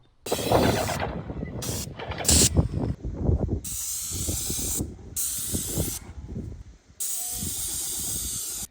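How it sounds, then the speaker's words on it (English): An airless paint spray gun hisses loudly against a cottage wall in several long bursts separated by short pauses, with clattering handling sounds in between. "those airless spray guns can be prone to really not getting into nooks and crannies and corners"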